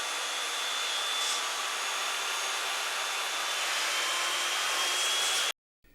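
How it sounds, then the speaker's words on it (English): A circular saw cuts a faux stone panel along a screwed-down cutting guide. The steady, loud buzzing whine runs unbroken for about five and a half seconds, then stops abruptly. "I secure the cutting guide with screws and, using the circular saw, make the cut."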